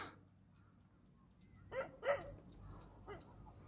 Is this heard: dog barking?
yes